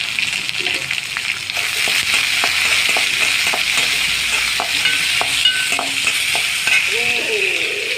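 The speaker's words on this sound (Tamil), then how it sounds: "வெங்காயத்தை கொட்டிடுங்க கொட்டிட்டு வெங்காயம் நல்லா வதங்கட்டும்" Chopped onion sautéing in a pan for a plantain stir-fry, a loud continuous sizzle with frequent light clicks and scrapes of stirring throughout, no voices.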